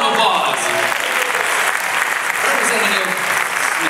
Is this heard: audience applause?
yes